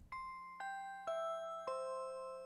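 Four electronic organ bell voices, played through tweeter speakers, strike one after another in a descending pattern, each ringing clear and sustained with a bright metallic shimmer.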